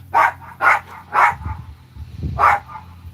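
A dog barks four times in a loose rhythm, loud and close, with low grumbling growls between the barks.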